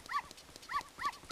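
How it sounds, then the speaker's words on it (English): Three short, sharp dog barks from Zelda: Ocarina of Time, fairly close and evenly spaced across a brief moment, with no other sound around them. "Quit barking."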